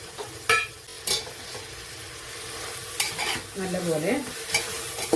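Chopped vegetables sauté in a pan for paneer biriyani, with a steady sizzle broken by several sharp scrapes and knocks of stirring; a single short spoken word comes in near the end.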